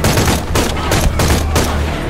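Rapid bursts of gunfire in the video game Shadow of the Tomb Raider, about four loud, sharp volleys in quick succession, close and alone.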